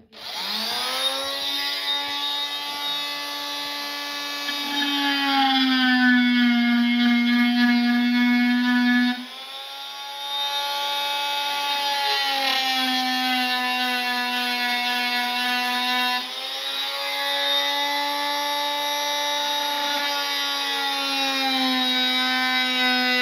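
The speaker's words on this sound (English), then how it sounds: "I'm cutting with a multi-tool and the cut's over this side now." An oscillating multi-tool cuts through birch plywood for a bookshelf, giving a loud, steady high-pitched buzzing whine in three long passes, with the pitch dipping slightly under load.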